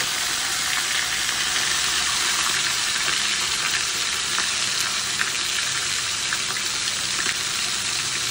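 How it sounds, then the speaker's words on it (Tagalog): Salted fish fries in oil, a loud, dense, continuous sizzle and spatter close by that holds steady throughout without talk. "ay ipiprito na po niya ang isda para makakain na rin po kami"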